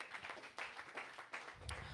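A church congregation claps in rhythmic bursts, the quick hand strikes fairly faint and distant in a reverberant hall, lasting only a couple of seconds.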